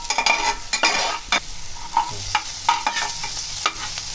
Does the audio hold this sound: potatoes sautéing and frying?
yes